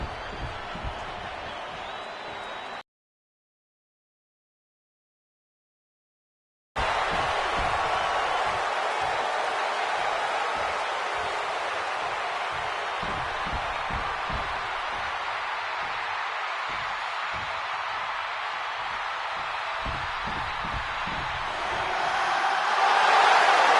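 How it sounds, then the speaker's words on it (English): A capacity arena crowd in the WWE 2K26 video game roars in a dense wash of cheering, cut by a few seconds of silence, then swells louder toward the end. "And this capacity crowd just exploded."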